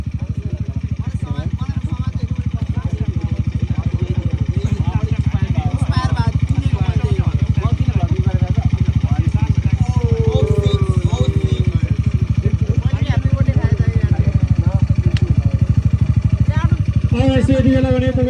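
A Crossfire RMZ 250 dirt bike engine runs at a launch-event track ride, a steady buzzing drone throughout, while someone talks loudly and continuously over it.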